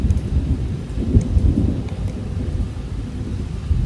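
Heavy rain pours outside during a thunderstorm, with a loud, continuous low rumble of thunder rolling beneath a dense wash of rainfall and no voices.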